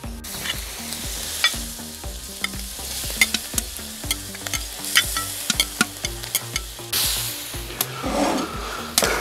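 Shrimp and squid rings sizzle steadily in a hot pan, with scraping and clacking of a utensil stirring them, close and continuous throughout.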